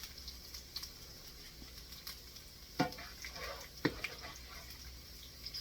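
Garlic sautéing in a pan for adobong sitaw, a faint, continuous sizzle broken by a few sharp scraping clicks of stirring.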